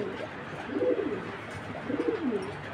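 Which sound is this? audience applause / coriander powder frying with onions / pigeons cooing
pigeons cooing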